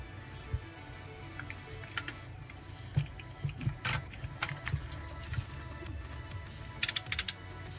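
Plastic parts of a Civil Warrior CW-01 General Grant transforming toy robot click and snap into place in a quiet room, with a scatter of small ticks and a quick cluster of sharper snaps near the end.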